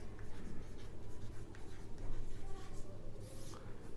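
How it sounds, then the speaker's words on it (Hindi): Steady scratching of writing on a board during a chemistry lesson, running continuously and close by, with a faint voice at times. "कार्बन एटम हिंदी में लिखता हूं"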